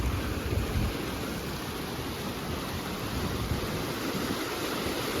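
A swift mountain stream on a backcountry trail in Yoho rushes in a loud, continuous broadband roar, close and unbroken, with no voices over it.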